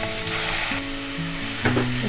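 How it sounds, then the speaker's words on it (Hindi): Grated onion dropped into hot oil in a kadai, bursting into a loud, close sizzle that stays strong, with a steady hum running underneath and a brief clatter near the end. "इसमें मैं डाल देती हूँ ये प्याज।"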